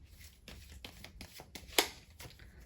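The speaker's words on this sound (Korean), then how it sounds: "제가 조언의 카드 같이 뽑아보면서 리딩 해보도록 할게요" Tarot cards are shuffled and drawn by hand, a series of soft, quiet riffling and flicking sounds with one sharper snap partway through, heard close with no talking.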